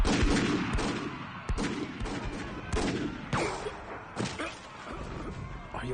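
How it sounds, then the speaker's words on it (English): Dense gunfire crackles through an anime battle scene, rapid overlapping shots and impacts rolling continuously and loudly across the whole stretch, with no clear voices over the barrage. "Return fire!"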